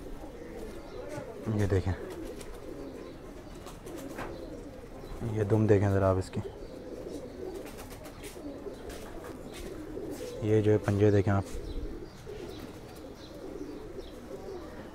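Mix-breed Indian pigeons coo in short bursts from close by, with three throaty phrases rising over steady background noise while someone talks through most of the scene.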